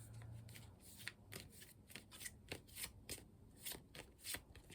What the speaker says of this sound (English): so let's see how it shuffles.